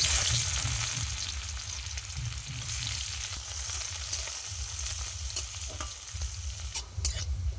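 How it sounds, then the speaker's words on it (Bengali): Chopped onion frying in hot mustard oil makes a dense, steady sizzle close up, while a spatula scrapes and stirs it repeatedly with no voices. "তেল খুব ভালো গরম হয়ে গেছে দিয়ে দিচ্ছি এবারে পেঁয়াজ কুচি"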